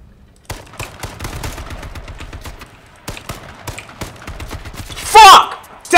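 AK rifle fire in the battle royale game H1Z1: rapid, sharp bursts of automatic shots, close and loud, broken by a brief pause, then more quick shots, ending in a louder harsh burst of noise.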